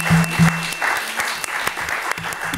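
Applause in a French podcast game after a tied score, short bursts of clapping mixed with sustained tones and some voice-like sounds underneath.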